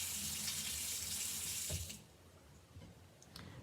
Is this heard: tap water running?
yes